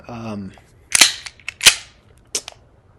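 A Smith & Wesson 5906 steel pistol fired outdoors, three sharp close shots in quick succession after a brief voice at the start.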